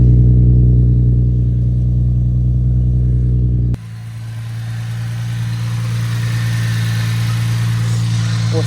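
A VQ35DE engine in an Infiniti G35 with a single-exit straight-pipe exhaust idles close by, a steady deep drone that drops in level partway through and then settles into an even rumble.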